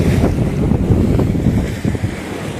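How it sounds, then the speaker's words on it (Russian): Strong wind buffets the microphone while waves roll and wash on the shore of the Yeysk Spit beach nearby, a loud continuous roar with no voices. "Здесь ветер сильный, волны"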